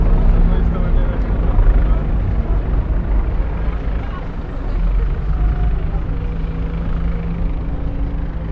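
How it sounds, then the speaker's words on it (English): Helicopters fly overhead in New York City, a loud, continuous low rumble filling the outdoor street scene, with traffic noise and talking mixed in throughout. "Got some helicopters up above us."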